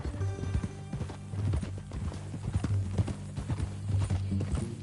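Horse hooves clip-clop in a steady trotting rhythm in the Western video game Red Dead Redemption, close and fairly loud, with a brief whinny, over a low background score.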